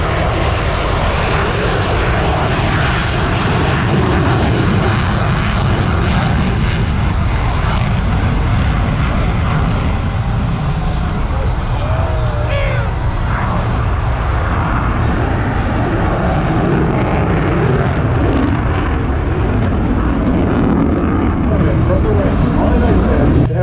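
A loud, sustained jet roar from an F-35C fighter flying past at an air show, a dense, rushing engine noise that swells and shifts as the aircraft passes.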